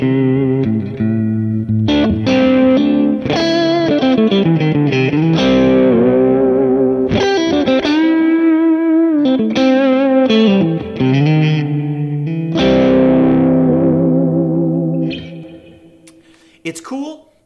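Electric guitar run through a Kemper amp using a Dumble profile, a warm, slightly driven tone playing chords and melodic phrases with bends, loud and steady before fading out near the end.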